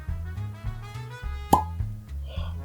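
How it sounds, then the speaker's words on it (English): A cork pops from a Penelope Omega bourbon bottle: a single sharp, close pop stands out mid-clip over a low background hum. "There's a good cork pop."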